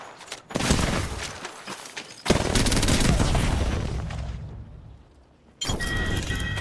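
Gunfire in Apex Legends comes in several loud, close bursts of rapid automatic shots, separated by brief pauses, with a fading tail before the last volley.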